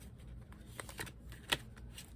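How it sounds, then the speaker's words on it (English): A Rainbow Tarot card deck being shuffled by hand, soft riffling and flicking of cards with a few sharper snaps, quiet and close with no talking. "Let me do the shuffle test now. Let's see how it shuffles."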